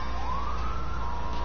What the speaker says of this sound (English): Oh, wouldn't be a stream without sirens.